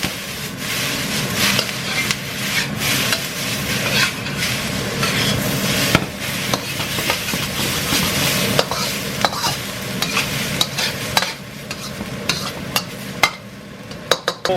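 Ginger and garlic sizzling hard in a hot stir-fry pan, a loud sustained crackle with constant metallic scraping and clanks from tossing and stirring, easing slightly toward the end.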